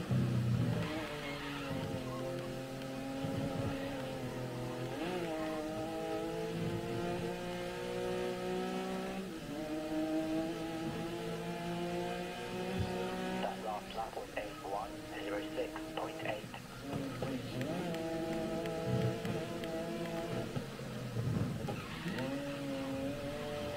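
Porsche race car engine in the GRID Legends racing game, a continuous revving drone with rising and falling gear pitches throughout, mixed under a person talking.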